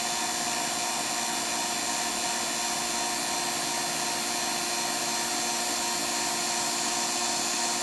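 A two-stage vacuum pump pulls vacuum on a mini split line set, giving a loud, steady, unbroken mechanical drone with a continuous hum and no pauses.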